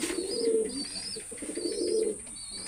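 A pure golden breeding pigeon of imported bloodline coos close by in two rolling, throaty phrases separated by a short pause.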